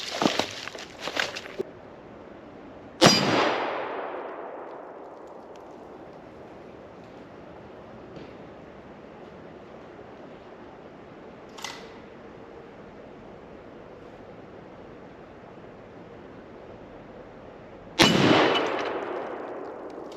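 A Mauser 98K rifle chambered in 7.92x57 Mauser fires at a steel plate: two loud, sharp reports several seconds apart, each with a long fading tail. Smaller clicks and a faint knock fall in between.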